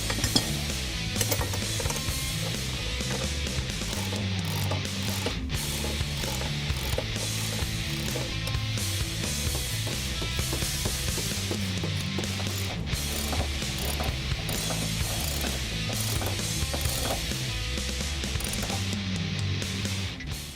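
A ratchet bolts the subframe back up to the chassis of a 2015-2023 Ford Mustang while a Steeda IRS subframe bushing support system is installed, giving steady, continuous mechanical clicking throughout.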